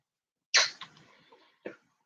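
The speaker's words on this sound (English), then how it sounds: "I'm coughing again, honey." A man at home coughs once sharply up close, then trails off in a few rough, raspy follow-up sounds before a final short cough.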